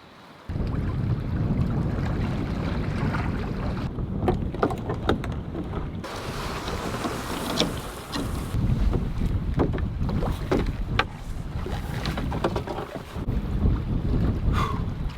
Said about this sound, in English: It's hard to sleep with this noise. But yeah, I'm gonna try to get more sleep